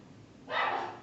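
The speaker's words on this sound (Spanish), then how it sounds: "Perdón por mi perro que está ladrando." A dog indoors barks at someone approaching the door: a single short, fairly close bark rises out of a quiet room.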